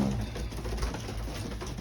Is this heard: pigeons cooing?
yes